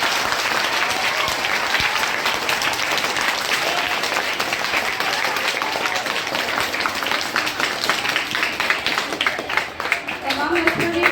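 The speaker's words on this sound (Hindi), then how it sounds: "तमाम के लिए जोरदार तालियां हो" Loud, sustained applause from an audience at a children's storytelling competition, dense clapping filling the whole stretch with scattered voices underneath.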